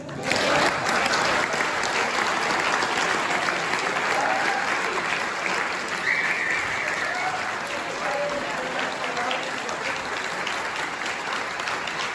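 A large audience at a civic proclamation ceremony claps continuously, a dense, steady wash of applause that begins at full strength and barely fades across the whole stretch.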